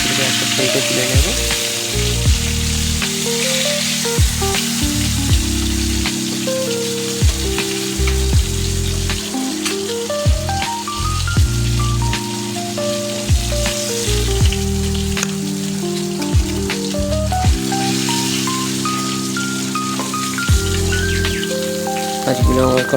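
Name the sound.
hilsa fish frying in oil in a wok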